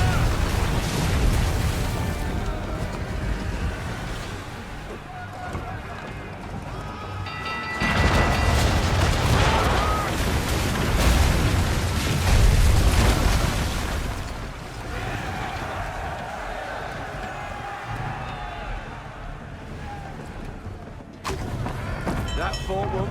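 Ship-mounted mortars fire during a naval battle in Assassin's Creed 3, heavy booms and thuds rolling under constant battle noise and shouted dialogue, with a louder surge of blasts partway through.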